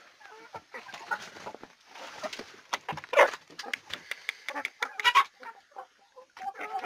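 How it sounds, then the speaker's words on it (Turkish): Five-month-old village chicks clucking and chirping in a busy, overlapping chorus, with sharp bursts rising above a steady background of softer calls. "Bunlar da 5 aylık köy civcivleri."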